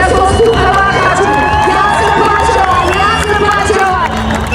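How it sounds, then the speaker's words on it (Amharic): At an award ceremony, a large audience claps and cheers loudly for three award winners, a dense, sustained roar of applause with shouts and whoops. "እባካችሁ አንዴ ሞቅ ያለ ጭብጨባ ለሶስቱ እባካችሁ።"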